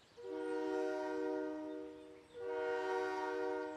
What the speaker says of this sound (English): It's coming. The train is coming.